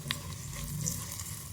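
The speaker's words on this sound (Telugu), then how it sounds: "ఇలా మంచిగా వేగాలి పోపు అనేది." Spice tempering sizzles in hot oil for tamarind pulusu, a steady close crackling hiss throughout with a faint clink near the start.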